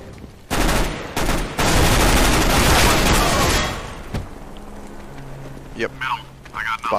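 SMG gunfire in Counter-Strike: Global Offensive, a loud sustained burst of rapid automatic fire broken by short pauses, followed by quieter game sounds and a voice speaking near the end.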